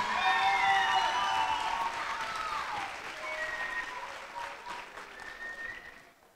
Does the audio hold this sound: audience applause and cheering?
yes